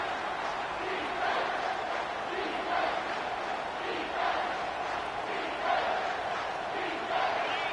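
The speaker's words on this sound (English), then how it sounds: "Decibels rising as the crowd gets behind this defense on third down." Stadium crowd noise from a college football video game, a steady roar swelling at third down with the defense on the field, broad and continuous without spoken words.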